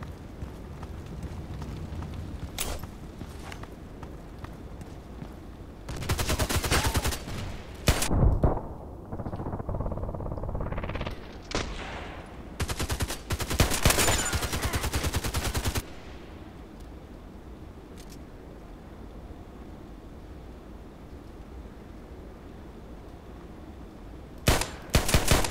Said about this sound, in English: I think on bay 5 I can make even more long shots by pistol and stuff